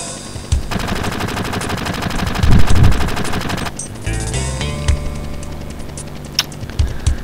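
Sustained rapid-fire machine gun bursts in Final Fantasy VII combat, a steady rattling stream of shots at close range, then scattered single impacts and tonal game effects in the later part, with no talk.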